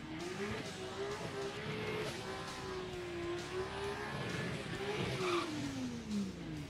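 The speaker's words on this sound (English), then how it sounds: "The infamous German versus Jap. Toyota Supra from the 90s. Takes on a 2018 BMW." A 1990s Toyota Supra and a 2018 BMW M2 drag race at a no-prep event, engines revving and rising in pitch with brief tire squeal, heard from some distance and fairly faint, with no clear talk.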